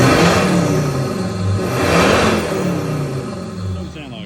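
Ford Ranger engine with a Psico airbox revving while stationary, a loud close rising and falling engine roar with a second swell midway, and people talking underneath.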